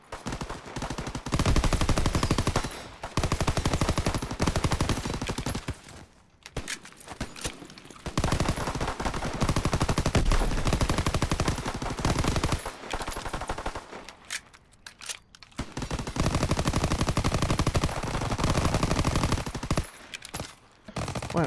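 Bursts of video game gunfire from a World War II era gun in Call of Duty: WWII, loud and repeated across the clip with brief pauses between volleys.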